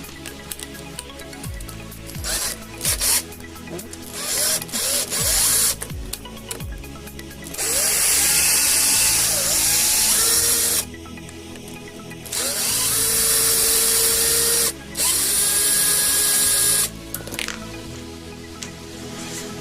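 Two 2mm headed screws come out of the rear bumper of a Vaterra Halix RC car under a power driver, which whirs in loud, close bursts that stop and start repeatedly, sometimes running for a few seconds at a time.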